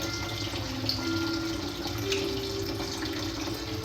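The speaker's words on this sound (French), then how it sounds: "Voilà, ça a bien bouilli." Water with natron boiling in a pot on the stove, heard as a steady, close, continuous bubbling rush with no talking over it.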